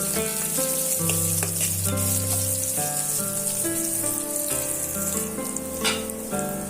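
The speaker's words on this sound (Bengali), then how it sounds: "দিয়ে পেঁয়াজগুলো সুন্দর করে লাল লাল করে ভাজা করে নিচ্ছি" Chopped onions sizzle and crackle in a hot pan with cumin, a steady, close frying hiss with no one speaking.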